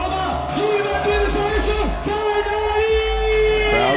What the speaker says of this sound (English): Crowd clapping it up for Team Liman again